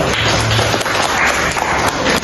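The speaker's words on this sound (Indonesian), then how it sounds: "tepuk tangan untuk kelompok 4" A class applauding a student group after a presentation in a university teaching session: steady, fairly loud clapping from many hands with a rapid, even texture throughout, heard close.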